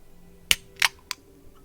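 Three sharp metallic snaps and hisses in quick succession, like a can tab cracking open, then quiet.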